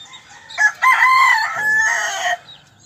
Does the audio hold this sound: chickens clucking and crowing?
yes